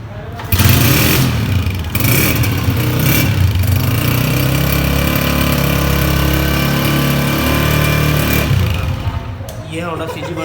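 A 2021 Honda CG 125 motorcycle engine fires up and settles into a steady, loud single-cylinder idle for about eight seconds before cutting off, with voices partly over the running engine.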